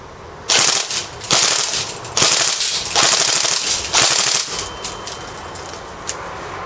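A Tokyo Marui SOPMOD airsoft rifle fires full-auto bursts: five rapid, loud strings of mechanical clattering shots in quick succession, then the action stops.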